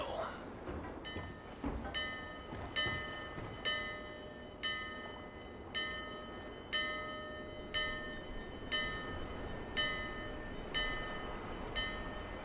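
A large bell in the video game Dark Souls 2 tolls at No Man's Wharf, struck in a slow, regular series of ringing chimes that each fade out, over a dim background rumble.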